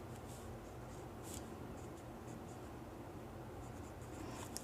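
A pen writes out a maths solution on paper, faint close scratchy strokes in short bursts against a quiet room hum.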